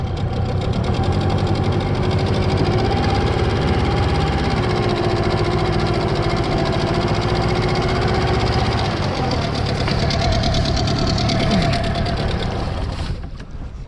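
A small outboard motor clamped onto a fishing boat runs steadily at close range on an autumn trip to check set lines for burbot, its droning, knocking hum continuous and loud before cutting off at the end.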